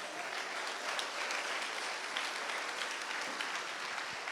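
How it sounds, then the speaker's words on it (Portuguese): A church congregation at an Assemblies of God communion service applauds in a continuous, even roar of many hands, heard from some distance and fairly quiet. "Pode aplaudir o Senhor Jesus"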